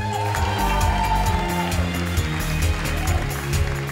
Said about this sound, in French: j'aimerais qu'on applaudisse chaleureusement toutes les personnes qui sont montées sur scène ce soir